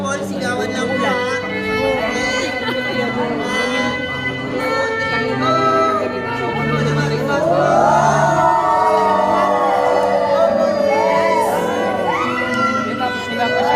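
Wedding guests at John David and Ivy's reception shout and cheer for the couple to kiss, a loud mix of yells, whoops and excited voices, with some louder rising cries near the end.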